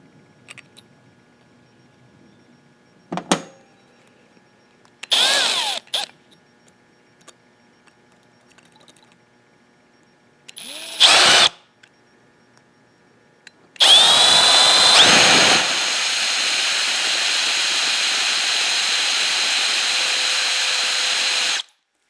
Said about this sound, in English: And we need to drill a hole.